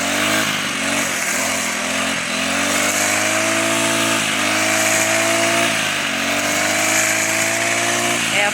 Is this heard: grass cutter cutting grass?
yes